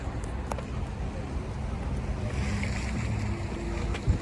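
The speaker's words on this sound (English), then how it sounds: "It's a bit windy today." Steady outdoor wind at a parking garage in Boulder, Colorado, blowing into the microphone as a constant low rumble and hiss, with faint distant noises now and then.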